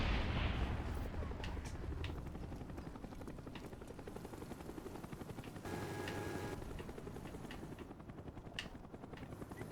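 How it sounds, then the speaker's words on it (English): Call of Duty Black Ops multiplayer match with a rumbling helicopter drone and a continuous wash of distant gunfire and explosion booms as a missile strike comes in, loud and dense throughout, with game voice chatter underneath. "Friendly missile strike on the way."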